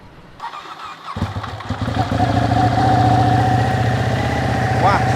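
A Ducati Panigale 899 motorcycle engine fires up after a brief quiet start, then idles and revs loudly and close, with a rough, raspy growl and a rising whine near the end.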